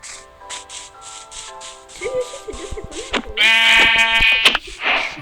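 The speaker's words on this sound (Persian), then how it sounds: "یه دونه ببعی" Minecraft sheep bleat loudly and repeatedly in the video game, several wavering calls stacked close together, with a brief rhythmic ticking before them and a short noisy burst near the end.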